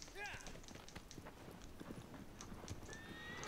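Horse hooves from the video game Shadow of the Colossus clip-clop in a steady rhythm under a French-speaking voice, with a brief whinny near the start.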